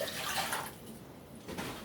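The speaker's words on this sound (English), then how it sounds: "Spring water, I'm going to put 3 cups" Spring water being poured into a cooking pot for polenta: a short, faint splashing pour that trails off, then a softer second splash, heard up close with no voices.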